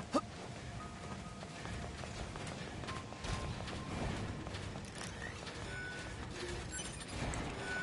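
Horse hooves clip-clop in the video game Nier: Automata, a faint, steady run of hoofbeats over a low background hum, with no talk over them.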